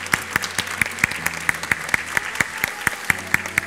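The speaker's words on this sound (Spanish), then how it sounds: "Fuerte ese aplauso." Applause from parents at a kindergarten graduation ceremony, steady hand clapping filling the room with regular sharp claps throughout, fairly loud and close, with no talking over it.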